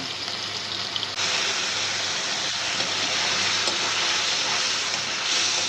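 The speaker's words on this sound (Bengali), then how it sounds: "এই তেলের মধ্যে সবজি লাড়া দিয়া" Vegetables frying in hot oil while being stirred, a loud continuous sizzle close to the microphone, with faint scraping and stirring noises through it and no talking.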